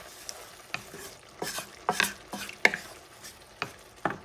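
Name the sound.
stirring smoked paprika into sizzling pan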